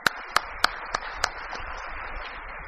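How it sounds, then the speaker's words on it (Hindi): Audience applause at a talk on leadership: a few sharp separate claps at the start, then a soft, sustained patter of clapping from a crowd, moderate in level, with no voices over it. "एक बार अपने लिए ताली बजाइए कि आप लोगों ने यह इंडस्ट्री बनाई है"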